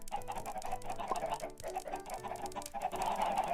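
Chickens on a large Minecraft chicken farm cluck steadily, their overlapping calls forming a continuous, busy, fairly loud chatter with no pauses or talking.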